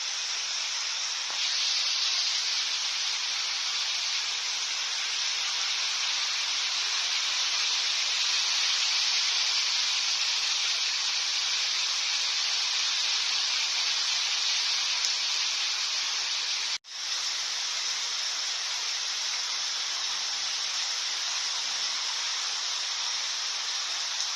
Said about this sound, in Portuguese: A chuva tá intensa agora.